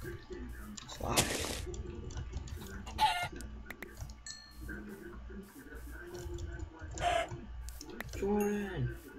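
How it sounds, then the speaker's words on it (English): Minecraft chickens clucking in a game world, a burst of fowl calls near the start and more scattered clucks throughout, heard alongside players talking. "Some more chickens here."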